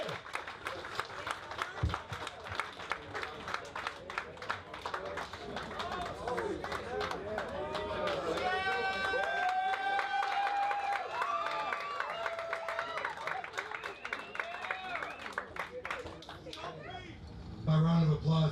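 A comedy show crowd claps and cheers as a guest comes to the stage, sustained loud applause with whoops and shouts building through the middle, while someone speaks over it near the end.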